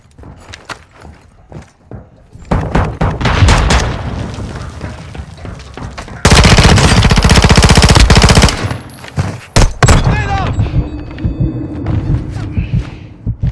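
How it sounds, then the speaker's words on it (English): Automatic gunfire in an online shooter video game: loud, rapid bursts of shots with heavy booms, including one long sustained burst, and faint footsteps between volleys. "Oh, he's not even aiming, he's just shooting."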